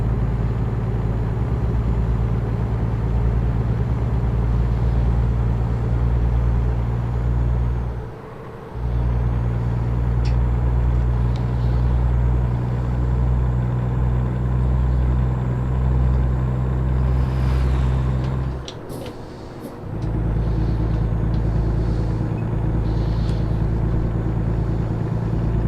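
A truck engine droning in American Truck Simulator, a steady deep rumble that runs for about twenty-five seconds, dipping briefly twice as if for gear changes, with no talk over it.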